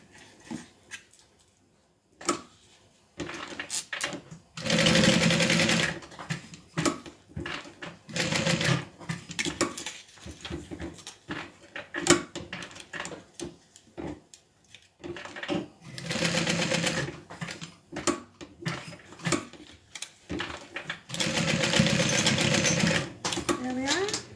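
A sewing machine stitches a rectangle onto a crossbody bag in several short, rattling bursts separated by pauses, with a person talking in between runs.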